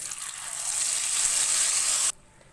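Onion, garlic and ginger paste sizzles loudly and steadily in hot oil in a karahi for Punjabi chicken, a close, bright hiss that swells and then cuts off abruptly near the end.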